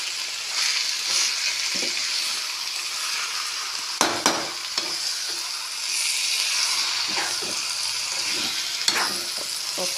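Chicken curry frying in a kadai while it is stirred, with a loud continuous sizzle and occasional spoon scrapes against the pan, heard up close and without speech.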